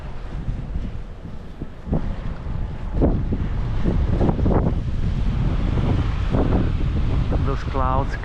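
Wind blowing on an island outdoors, a steady rushing buffet against the microphone throughout, with bursts of nearby talking and a few short knocks over it.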